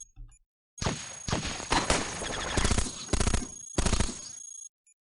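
Guns fire in the robot roguelike game Cogmind, harsh crackling bursts arriving in about five rapid volleys of several seconds, loud and close, followed by a short electronic blip.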